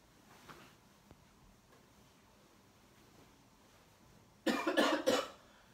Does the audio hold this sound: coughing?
yes